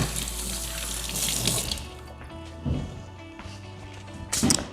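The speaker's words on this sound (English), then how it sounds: "Let me wash my hands real quick." Hands are washed under a running tap in a kitchen sink, the water splashing loud and close before easing to a lighter trickle with a few sharper splashes near the end.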